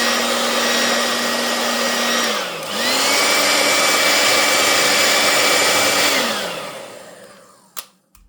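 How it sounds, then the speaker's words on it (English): A hairdryer blows steadily up close while drying paint on a cushion, its pitch dipping once briefly before it runs on and then winds down to a stop, followed by a click. "Hairdryers are great for if you kind of want to dry something, go over it, give it a blast."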